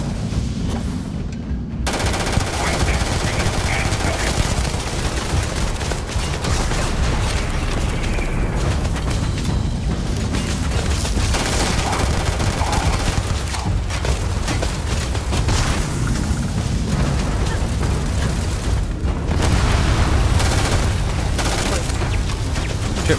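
Heavy gunfire in Starfield, a powerful gun firing in loud, near-continuous automatic bursts with booming impacts, sustained for over twenty seconds with only brief pauses.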